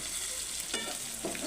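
Brinjal fry is stirred in a pan: a soft sizzle runs under a few quick scraping strokes of the spoon, quiet and close.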